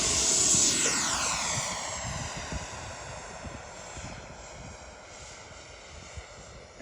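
An electric CY Models 100-inch Cessna Bird Dog model airplane passes overhead with a steady whine that shifts in pitch as it goes by, then fades to a lower drone with wind noise.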